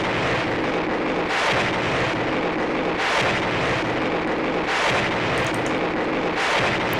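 A gritty factory sound sample loops as industrial techno drums, dense broadband noise with pulsing bursts roughly every one and a half seconds, loud and continuous without speech.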